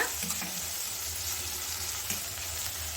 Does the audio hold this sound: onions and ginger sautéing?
yes